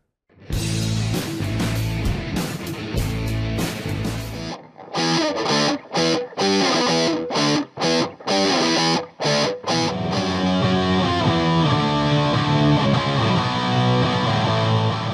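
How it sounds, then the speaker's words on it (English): A loud, heavily distorted electric guitar through an MXR Distortion Plus pedal plays choppy chords with sharp stops and restarts, then settles into sustained crunchy strumming. "we're going to check out a distortion pedal that's older than most of you all are"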